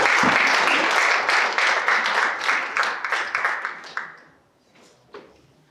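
An audience at a commemoration ceremony for the 102nd anniversary of the Cheongsanri battle applauds an award recipient: brisk, loud clapping that thins to scattered claps and stops, followed by a lone late clap.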